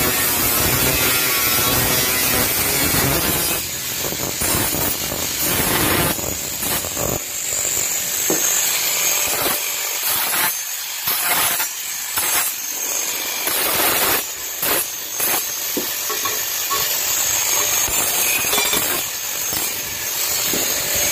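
Cutting away a marked portion of a Honda Activa scooter seat during a seat modification, a harsh rasping cutting sound in repeated strokes with brief pauses, close and loud.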